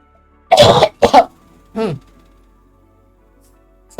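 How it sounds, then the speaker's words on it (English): A person coughs close to the microphone, two quick harsh coughs followed by a softer throat-clearing rasp, then quiet. "sorry if I'm coughing."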